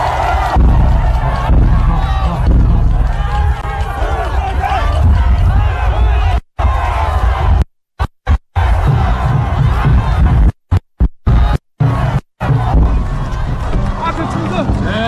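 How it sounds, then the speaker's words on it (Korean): A large outdoor political rally crowd in Icheon, South Korea, cheering, shouting and clapping loudly and continuously, with dense voices and chants throughout and several abrupt brief cutouts near the end. "박수 부탁드리겠습니다"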